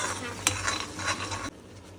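Upma cooking in a pan while being stirred, with a soft sizzle and scraping spoon strokes against the pan, fairly quiet and close, cutting off abruptly partway through.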